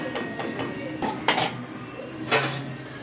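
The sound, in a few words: pot lid being placed on cooking pot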